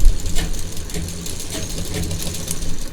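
A double-needle sewing machine runs steadily while stitching a small frill onto a flat fabric potli pouch, a close, continuous mechanical hum and chatter that lasts the whole stretch with no talking.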